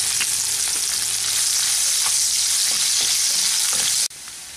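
A medium-sized chopped onion frying lightly in a pan for a rohu fish curry, producing a loud, dense, continuous sizzle with light stirring scrapes, which drops abruptly to a quieter hiss near the end.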